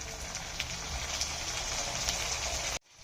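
Ginger garlic paste hitting golden-brown frying onions in a pan, a dense crackling sizzle throughout that cuts off abruptly near the end.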